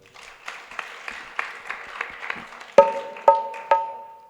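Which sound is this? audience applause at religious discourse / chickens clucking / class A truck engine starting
audience applause at religious discourse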